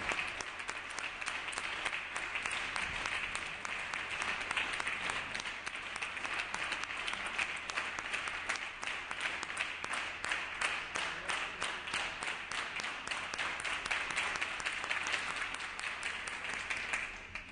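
Sustained applause from members of a state assembly chamber during a floor session, a dense, even wash of many hands clapping at a steady level for the whole stretch, with a faint voice at times.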